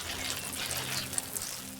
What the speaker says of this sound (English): It's almost like rain sounds, but maybe even a little bit more soothing because you can hear the water even more